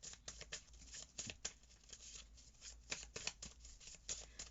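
Tarot cards shuffled by hand during a reading, a quiet run of soft riffling flicks and papery slaps in an uneven rhythm, close and alone with no talk.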